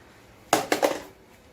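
Metal kitchen utensils and pots clink and clatter close by in a home kitchen, with a quick run of three bright knocks before quiet returns.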